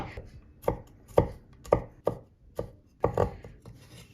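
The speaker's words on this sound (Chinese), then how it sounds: "好，像这样稍微剁细就可以了， 不用剁得很碎的。" Knife chopping garlic on a board for Thai basil pork, a series of about ten sharp, close thuds at an uneven, unhurried rhythm with no talking.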